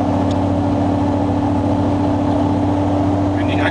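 A 2011 Chevy Silverado pickup strains at full throttle around 4,500 RPM while towing on a highway, a loud, steady droning engine note with a constant rumble and no break throughout.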